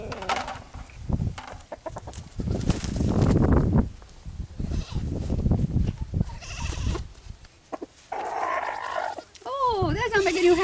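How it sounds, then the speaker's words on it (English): Large fowl Wyandotte chickens cluck and squawk close by in a coop, with irregular bursts between stretches of talking and rustling as someone moves among the birds. "I am going to get in with the chickens and pick up my male"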